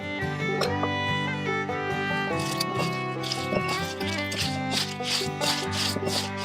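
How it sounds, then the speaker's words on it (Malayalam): Kanthari bird's eye chilies ground for fish fry masala, a gritty rubbing and scraping rhythm of repeated strokes, close and steady, over faint background music. "ആദ്യം ഒന്ന് കാന്താരി അരച്ചെടുക്കാം"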